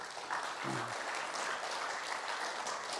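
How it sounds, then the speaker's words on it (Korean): Audience at a business CEO forum applauding, a steady even wash of clapping held at a moderate, somewhat distant level throughout. "박수 한번 치고 하겠습니다"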